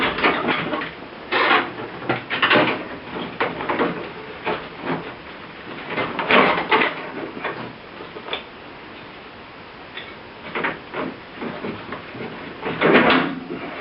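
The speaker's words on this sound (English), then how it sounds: "then the whole door panel comes up and off the car" Close-up plastic clicks, scrapes and creaks as a Camaro or Trans Am door panel is worked loose from the door frame, with irregular snapping and rattling bursts and quiet gaps between.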